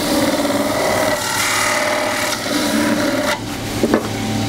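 An angle drill power-sands a wooden bowl remounted for finishing, making a continuous close, loud abrasive rasping with a steady motor hum that shifts slightly as pressure changes, with no talk.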